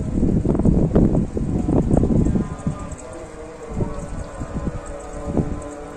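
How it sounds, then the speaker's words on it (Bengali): Strong wind blows outdoors on a cold day, a loud gusty rumble for the first few seconds that then eases into softer, intermittent gusts. "তো বাইরে প্রচন্ড বাতাস আর প্রচন্ড ঠান্ডা।"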